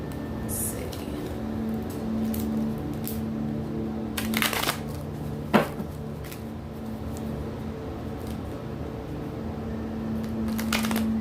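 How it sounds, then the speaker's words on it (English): Tarot cards being shuffled by hand in a few sharp riffling bursts, one near the start and others midway and at the end, over a quiet room with a low steady hum. "Let's go ahead and shuffle the cards."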